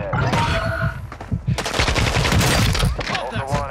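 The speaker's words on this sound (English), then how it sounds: "Oh, shotgun, shotgun, shotgun!" Shotgun blasts in the Call of Duty DMZ video game, a rapid cluster of loud, close booming shots with ringing tails, under excited shouting voices.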